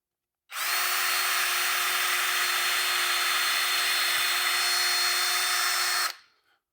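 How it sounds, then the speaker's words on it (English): A power drill bores bolt holes into a garage header board, one continuous high whine at steady speed for about five and a half seconds, close and loud, then stopping abruptly. "I have to drill right here"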